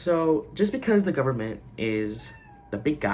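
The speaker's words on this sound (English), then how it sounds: "that's my cat." A pet cat meows close by in a home while a person keeps talking over it, the mewing cries mixed with speech.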